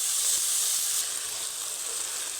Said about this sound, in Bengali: এবার আদা রসুন পেঁয়াজ সব কিছু একসঙ্গেই ভাজা ভাজা করে নেব।